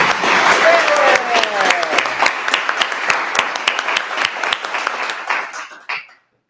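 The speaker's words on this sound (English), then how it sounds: "people want to clap," Audience at a climate candidate forum in a church breaks into applause, a burst of many hands clapping with a few whoops early on, thinning to scattered claps before fading out.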